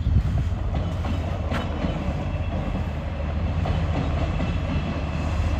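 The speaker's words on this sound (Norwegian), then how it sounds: "Men det er også dere ser et dieseltog." A diesel train rolls past outdoors, making a steady broad rumble with faint clickety-clack from the wheels that holds evenly for several seconds, with no one talking.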